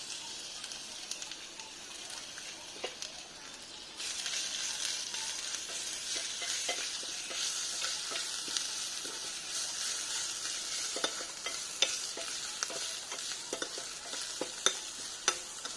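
Ginger paste, bay leaf, dried chili and five-spice seeds sizzle in hot oil in a pan, a steady crackling hiss that grows louder partway through, broken by scattered small pops and stirring clicks.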